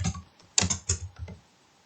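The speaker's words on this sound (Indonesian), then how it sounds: "Kita ketikkan nama kita." A name is typed on a computer keyboard in short, close, crisp bursts of key clicks, about half a dozen quick taps with brief pauses between them in an otherwise quiet room.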